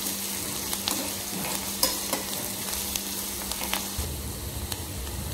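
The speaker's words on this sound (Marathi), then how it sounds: "तेलामध्ये कांदा गुलाबी होईपर्यंत आपण हा परतून घेऊया" Onion sautés in oil with crackled curry leaves until pink, giving a steady close sizzle broken by frequent scraping stir strokes and light clinks of a spatula against the pan.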